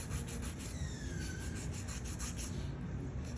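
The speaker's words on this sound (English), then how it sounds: "All it is running the drill around that cuticle." Electric nail drill run around the cuticle while doing acrylic nails, a quiet steady whirring and rubbing, close and continuous, alone with no talk.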